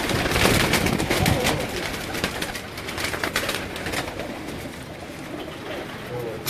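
Fancy pigeons kept by a pigeon fancier in Gujranwala coo over steady background noise, with voices talking throughout.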